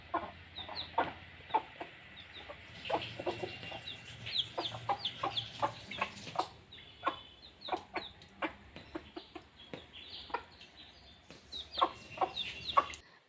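Chickens cluck in a steady run of short, close calls, several birds overlapping, with no talk over them.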